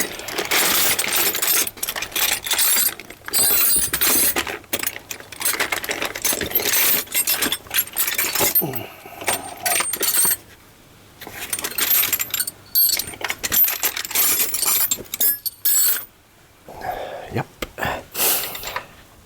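Metal hand tools clink and jangle as someone rummages for a 17mm wrench to adjust the suspension preload on an Indian FTR1200 motorcycle. The sounds come in close, intermittent bursts with brief pauses.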